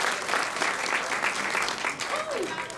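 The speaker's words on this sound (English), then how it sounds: "if I could ask everyone to join me in a round of applause" An audience applauds a nominee at an annual leadership awards event, giving dense, steady clapping that fills the room from start to finish, with a voice faintly audible beneath it.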